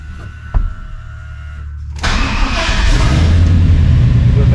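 A truck engine is started: quiet mechanical clicks and a thump, then the engine catches with a sudden loud burst and settles into a steady, close, rumbling idle that builds slightly.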